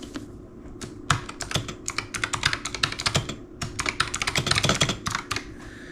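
Passphrase typed on a computer keyboard, a quick irregular run of close, crisp key clicks with a short pause before a denser second burst.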